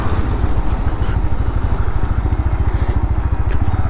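A Bajaj Pulsar NS motorcycle being ridden, its engine thrumming with a fast, even low pulse, close and steady throughout, with the rhythm shifting slightly as it pulls through the gears; no talk.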